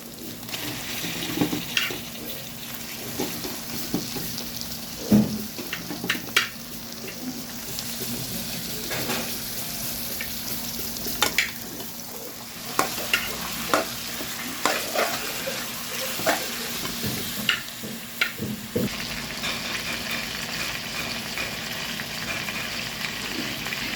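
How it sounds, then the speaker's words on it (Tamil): Chicken with ginger sautés in a pan, a steady sizzle broken by frequent scraping and clinking stirs of a spoon against the metal, with a faint trickle of water at times. No talk. "இஞ்சி போட்டு வதங்கிட்டு சிக்கனை சேர்த்துருக்காங்க."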